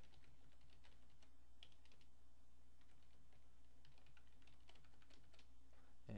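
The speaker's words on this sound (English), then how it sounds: "we're going to type in our administrator name and password for our domain" Faint, quick keystrokes on a computer keyboard as an administrator name and password are entered, a steady run of soft clicks with brief pauses, no voices.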